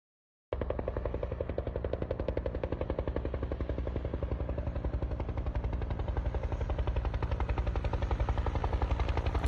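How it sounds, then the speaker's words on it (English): A Bell utility helicopter's rotor thumps in a fast, steady rhythm, loud and close, continuing throughout without voices. "That is the legendary Bell utility helicopter."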